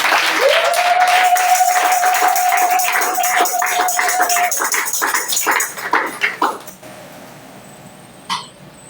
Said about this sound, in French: Est-ce que tu peux acclamer pour la faveur de Dieu?